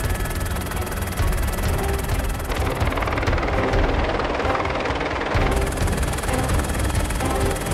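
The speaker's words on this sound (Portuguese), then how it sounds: "O helicóptero da Polícia Civil sobrevoa a casa do alvo." A Civil Police helicopter passes overhead with a loud, continuous rotor thump and turbine roar whose strength swells and eases as it flies.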